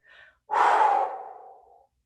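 A person breathes during a total body fitness workout, giving a short inhale and then a longer, forceful exhale, close and clear against silence.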